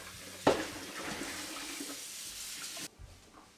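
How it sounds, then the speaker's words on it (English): Tap water runs into a homebrewing pot in a kitchen, a loud, steady hissing splash that starts abruptly and then cuts off near the end, with no one speaking. "I'm going to put 2 liters of water in here."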